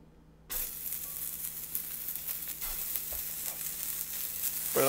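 Burger patties dropped into a hot pan burst into loud, continuous sizzling after a brief moment of quiet, the crackling hiss holding steady and swelling slightly toward the end.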